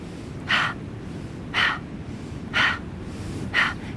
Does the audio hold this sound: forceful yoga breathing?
yes